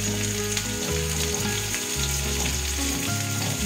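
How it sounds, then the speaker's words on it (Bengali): Sliced pointed gourd fries in a pan with a little turmeric, giving a loud, steady, close sizzle with faint stirring scrapes and no voices. "পটলগুলো দিয়ে একটু নাড়াচাড়া করে আমি পটলগুলো একটু ভাজতে দেব"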